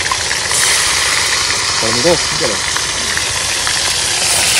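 Fish frying in hot oil, a loud, constant hissing sizzle filling the whole stretch, with a brief voice heard faintly under it midway.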